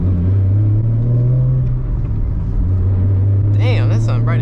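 A Nissan 370 engine drones loud and steady while driving, with the revs dipping briefly before climbing again, and a short burst of higher sound near the end.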